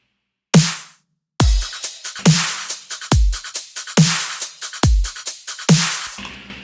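A simple trap drum loop in a future bass style plays, with punchy kicks and sharp snare hits alternating in a steady pattern. It is dry and close, and the hits are separated by gaps of silence.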